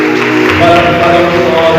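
A church congregation breaks into applause during a Sunday morning service, a steady wash of clapping from many hands for a couple of seconds, with some voices mixed in.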